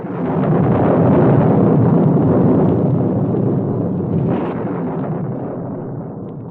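Deep thunder rumbles through a dramatic retelling of Zeus rising from his throne, a loud, sustained rolling roar that swells early, then slowly fades over several seconds with no speech.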